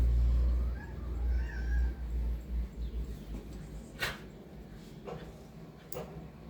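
Pet cat Miss Alea meows faintly in the background, a few short high calls spaced apart under low rumbling room noise, distant and quiet.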